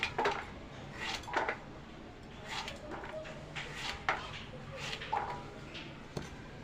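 Knife cutting bottle gourd (lauki) into small pieces on a board in a home kitchen, giving a string of soft, fairly faint taps and scrapes with uneven rhythm and background hiss.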